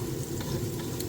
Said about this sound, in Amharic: በመጠኑ የሆነ እዚህ ጋር እንደዚህ አድርገን ሽንኩርታችንን እናቁላላለን